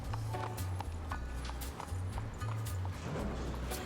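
Horse hooves clatter in a fast, continuous gallop during a horse race, with a steady rhythmic drumming, mixed with a busy, noisy background.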